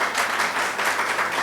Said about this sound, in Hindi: थोड़ी सी तालियां बजती थी इसके ऊपर